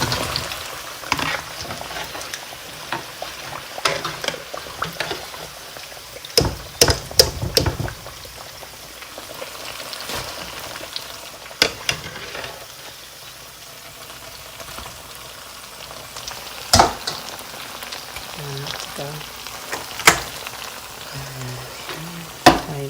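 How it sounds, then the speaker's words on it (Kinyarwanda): Potato pieces fry in hot oil in a home kitchen, giving a steady bubbling sizzle throughout with scattered sharper pops and utensil knocks, moderately close and continuous, with no talking. "Ibirayi byacu birahiye, tugakuraho amavuta ubundi tukabisimbiza."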